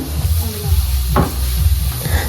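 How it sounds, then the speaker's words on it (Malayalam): Ginger, garlic and masala sautéing in a pan for chicken curry: a loud, steady sizzle with stirring, one sharper scrape of the spoon midway and a low rumble beneath. "ആ മസാലകളൊക്കെ ആഡ് ചെയ്ത് കൊടുത്തിട്ട് നന്നായിട്ട് വഴറ്റിയെടുക്കണം"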